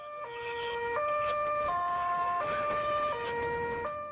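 An ambulance drives through The Hague with its two-tone siren blaring, alternating between high and low pitch about every three-quarters of a second. It is loud and close throughout, with no talk.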